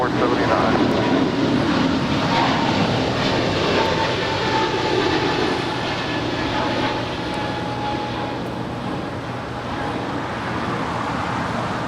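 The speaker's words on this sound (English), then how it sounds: "That right there is United Airlines Flight 515 coming in from JFK on that 757-200" A United Airlines Boeing 757-200 arrives at Los Angeles airport from JFK with a steady, fairly loud jet engine roar and broad rumble that eases slightly toward the end, with faint background voices.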